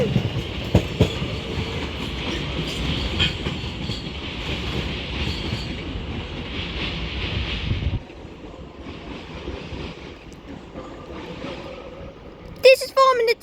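A London Overground Class 710 electric train pulls out of London Euston, with a steady, loud rumble and clatter of wheels that eases after several seconds and ends in a sharp metallic squeal; a voice talks over it.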